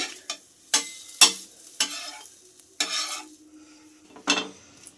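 A pan for patisapta is oiled and wiped, short separate bursts of rubbing and scraping with a faint sizzle between them, close and intermittent, no talking.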